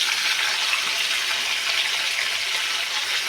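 Green chillies, curry leaves and tomatoes fry in a pan for a spiced chicken curry, giving a steady, close, even hiss of sizzling oil with no talk.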